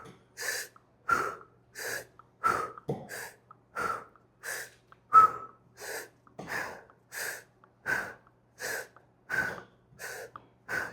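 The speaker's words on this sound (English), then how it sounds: "you want to breathe in and then sharply breathe out." Repeated breaths during a guided breathing meditation, each an inhale followed by a sharp, forceful exhale through the nose or mouth, about twelve even pulses close and clear in steady rhythm with no talk.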